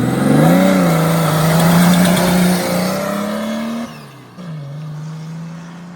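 A turbocharged Mercedes OM603 diesel car making a hard launch, the engine loud and close as it revs up and pulls strongly, then briefly drops off and picks up again.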